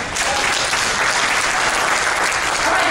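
Steady, dense applause from a stand-up comedy audience fills all three seconds at an even, loud level, with no voices over it.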